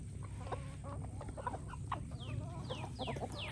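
Backyard chickens cluck and murmur softly nearby, a steady run of short calls over a low ambient hum, with a few higher bird chirps sweeping in toward the end.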